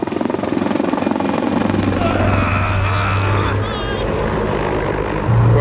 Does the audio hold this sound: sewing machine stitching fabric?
no